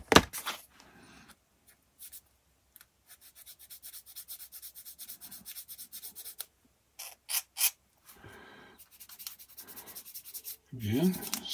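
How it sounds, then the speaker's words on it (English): Small plastic parts from a 1/48 B-25J scale model kit are sanded to remove nibs, producing close, soft rubbing strokes in short, irregular bursts separated by quiet gaps. "sand all those nibs completely smooth"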